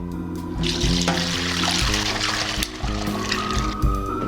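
Water pours steadily and fairly loudly into a pot containing kelp for several seconds, with a faint hum underneath.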